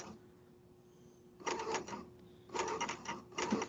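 A serger stitches a skinny seam on pajama fabric, barely trimming the edge with its cutter, running in two short whirring bursts after a quiet pause, close and brisk.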